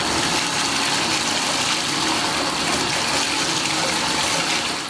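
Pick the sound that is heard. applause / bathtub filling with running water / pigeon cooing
bathtub filling with running water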